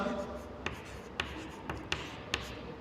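A teacher writes a literacy formula on a board, producing a series of short, sharp scratching strokes at a regular pace, while a voice talks over the writing.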